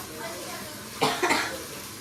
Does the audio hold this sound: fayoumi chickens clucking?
no